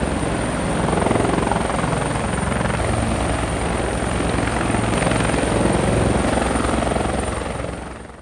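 A GI Joe toy helicopter flies a supply run in play, heard as a loud, steady rotor roar that holds throughout and fades slightly at the end, with no voices.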